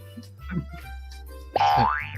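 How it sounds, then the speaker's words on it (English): A cartoon poof effect from a visual novel scene, one bright rising-and-falling boing-like tone that springs up sharply after a quieter stretch of soft background music and lingers to the end. "a ring of smoke rose from her head with an audible poof"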